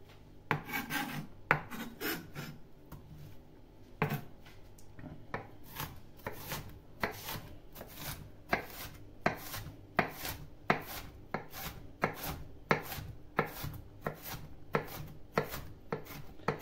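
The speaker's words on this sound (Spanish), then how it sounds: "como hay mucha gente que no sabe picar la cebolla bien picadita" A knife chops onion finely on a board for meat pie, a long run of sharp, closely spaced taps in a steady, slightly irregular rhythm, close and clear with no voices.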